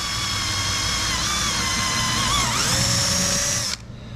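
A power drill with a 1/4 inch bit boring a hole through a plastic Old Town Predator PDL kayak hull, a steady close, loud whine that shifts pitch as the bit bites, then stops abruptly.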